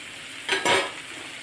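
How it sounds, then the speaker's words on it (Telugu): Ivy gourd curry with chili powder, coriander powder and peanut powder is stirred in a pan, producing a brief, close scrape and sizzle of about half a second over a soft background hiss. "ఇప్పుడంతా మళ్ళీ ఒకసారి మిక్సీ వేసుకోవాలి దొండకాయ కర్రీని."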